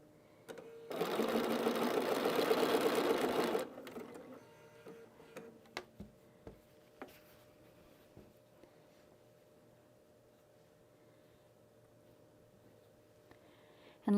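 A sewing machine stitches a patriotic country-style quilt in one steady, loud burst of about three seconds, followed by a few faint clicks and near-silence.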